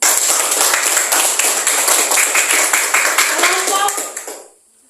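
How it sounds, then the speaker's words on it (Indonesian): Classroom of children applauding together after finishing a group discussion, a dense, steady burst of many hands clapping at close range that carries on for several seconds and then stops abruptly. "Oke, mari kita tepuk tangan dulu."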